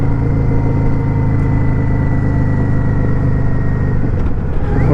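A Yamaha XVS650 motorcycle engine runs on the road with a loud, steady low throb and a constant rumbling drone throughout, close up and uninterrupted.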